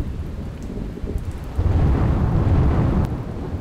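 Heavy monsoon rain in the rural Sinor area of Vadodara, Gujarat, pours in a dense steady wash that swells louder midway, with a low rumble of thunder beneath and no voices.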